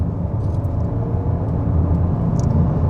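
A 2026 Volkswagen T-Roc 1.5 eTSI Life 150ps in sport mode accelerates at full throttle, a steady loud engine drone and road rumble heard from inside the cabin with no talk.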